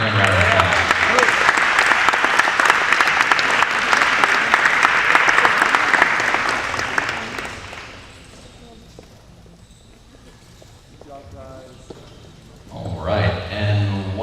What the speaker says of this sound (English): So please give Coach Franklin a round of applause.